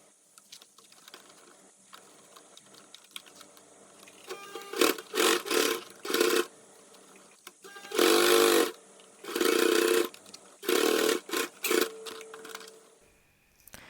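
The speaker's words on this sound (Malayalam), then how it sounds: "മടക്കിയതിന് ശേഷം നമ്മൾ ഇനി 2 സൈഡ് സ്റ്റിച്ച് ചെയ്യണം." Sewing machine stitching the two side seams of a folded fabric cell phone cross bag, running in several short separate bursts of whirring, each lasting about a second, with quiet pauses between them.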